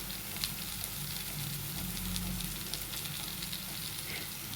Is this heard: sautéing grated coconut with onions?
yes